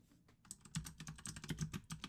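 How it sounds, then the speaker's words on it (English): A computer keyboard is typed on in quick, uneven bursts of crisp, close clicks and clacks, soft overall, lasting about two seconds with no talking. "Everyone gets to get some ASMR of my keyboard right now."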